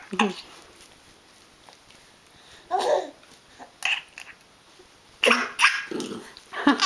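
A dog gives several sharp, close barks and gruff growling bursts in separate clusters amid a lively home scene, with people talking in between.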